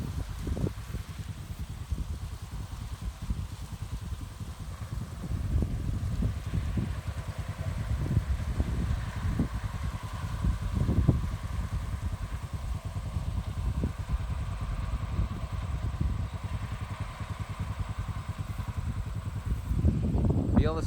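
A John Deere combine harvester with a six-row row crop head works a soybean field, its engine a steady low rumble with clattering that grows louder toward the end as it approaches.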